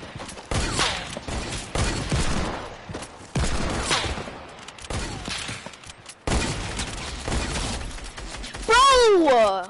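Sniper rifle fire from a video game: loud, close bursts of gunfire repeat over several seconds, with players talking over them and a brief voice sound near the end.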